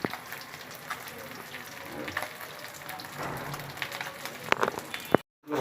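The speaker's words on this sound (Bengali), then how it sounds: "মাছটা এক পিস ভাজা হয়ে গেছে, উল্টায় দেওয়া হয়েছে, এবার আর এক পিস ভেজে নিচ্ছি।" Pieces of shol fish sizzle in hot oil in a pan, with a soft, continuous crackling hiss that is fairly quiet and close. The sound cuts out briefly near the end.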